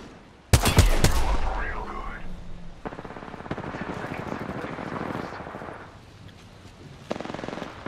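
Rapid bursts of rifle fire from a G7 Scout in Apex Legends, loud and close at first, then continuing under busy game noise with a further burst near the end.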